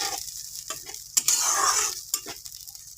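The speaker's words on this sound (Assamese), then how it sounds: "মছলাখিনি মই ভালকৈ লৰাই দিম" A spoon stirs spices frying in oil for a pigeon meat curry, with scraping and tapping against the pan over a soft sizzle, close and fairly quiet.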